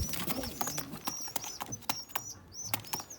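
Pigeons on a home balcony, with soft repeated coos and cheeps over several seconds, broken by sharp flutters or knocks, fairly close and moderately quiet, with no one talking.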